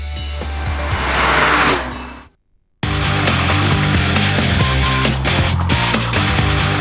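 Porsche 911 4S sports convertible driving, a loud steady engine drone with a brief near-silent gap midway, then the engine note resumes at full strength.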